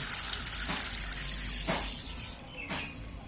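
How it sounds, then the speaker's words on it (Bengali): Water runs into a bowl of dal (lentils) being washed in a home kitchen, a steady close rushing stream with soft splashes that thins out and tapers toward the end. "ফের আমি জল ভরে দিচ্ছি জল দিয়েছি"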